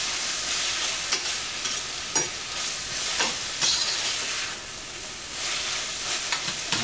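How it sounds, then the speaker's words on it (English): Tomato being stirred into softened onions and Scotch bonnet pepper in a hot pan, a steady sizzle with scraping spoon strokes and occasional sharper clinks, close and continuous with no talking. "So to that, I'm going to go ahead and add my medium tomato. And I'm going to stir it up a little just to get it incorporated."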